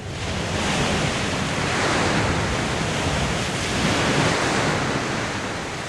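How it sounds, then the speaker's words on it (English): Ocean waves from a sound effects library wash in a dense, loud, continuous roar of surf, swelling gently in slow surges with no voices over it. "Or waves. A lot of waves."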